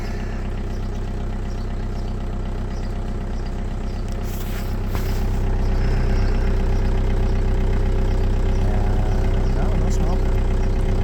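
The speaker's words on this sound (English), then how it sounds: "I'll let it idle for a little bit" A 2002 VW Jetta TDI diesel engine idles close by, a steady dense rumble that grows slightly louder partway through, with a person talking over it.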